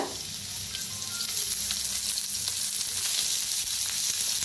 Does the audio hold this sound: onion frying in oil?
yes